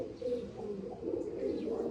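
A pair of Andhra pigeons of the star kalanka type coo continuously nearby, their low throaty calls overlapping in a steady murmur.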